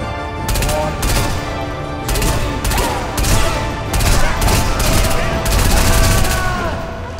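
Machine gun fire in Sniper Elite V2 Remastered at the Tiergarten flak tower, loud repeated bursts of rapid gunfire with short gaps between them and voices talking under the shooting.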